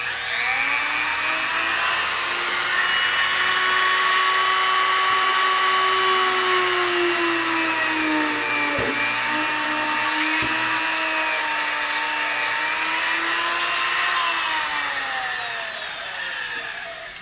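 A small rotary power tool drills into an oven-baked polymer clay jewelry piece, giving a continuous high, steady whine with slight pitch drifts and a couple of faint clicks, close and uninterrupted for the whole stretch, no speech.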